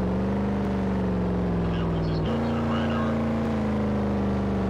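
A car engine in a racing video game drones steadily as it climbs a hill, its pitch jumping abruptly upward midway as if shifting gear, then holding a higher, even tone.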